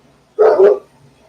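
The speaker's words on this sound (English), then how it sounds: "guys can probably hear a dog's barking right now" A single sharp dog bark rings out close and loud, then quiet follows.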